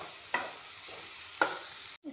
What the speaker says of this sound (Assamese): এয়া পনীৰখিনি অলপমান ভাজি লৈছোঁ।